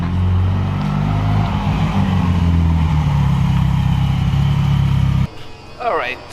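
Ferrari 330 GT shooting brake engine runs at low, held revs, a deep steady rumble close by that cuts off sharply near the end, followed by a brief voice.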